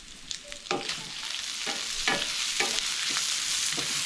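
Bacon and onions sear in a hot pan, a steady sizzle punctuated by several sharp scraping stirs of a utensil against the pan at close range.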